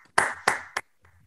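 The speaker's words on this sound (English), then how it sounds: "So a round of applause, please." Three sharp hand claps ring out close by, a short uneven burst of applause that stops abruptly, leaving a faint low hum.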